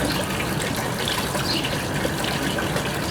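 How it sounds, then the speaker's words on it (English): A kitchen faucet runs at full flow over trout fillets being rinsed, giving a loud, steady gush of water that stays constant throughout with no pauses or talk. "we're going to turn on the faucet and go ahead and rinse off our trout fillets"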